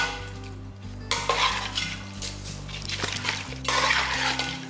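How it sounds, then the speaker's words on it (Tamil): Country chicken curry ingredients sauté in a pan, with bursts of sizzling and wet stirring scrapes over a steady low background hum. "எல்லாமே ஒன்றா சேர்த்து நல்லா வதக்கிக்கலாம்"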